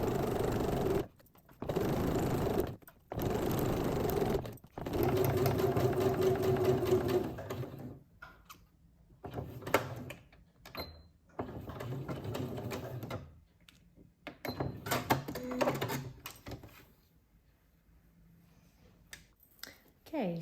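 Sewing machine stitching bias binding onto a garment, running in steady whirring bursts that stop and start, with quieter clicks and handling between runs and a voice talking at times.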